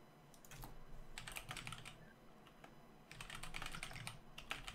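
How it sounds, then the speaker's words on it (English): Loud computer keyboard typing during an online tabletop game session comes in quick clattering bursts of keystrokes separated by short pauses. The sound is close and dry, and no one speaks. "And my typing is super loud."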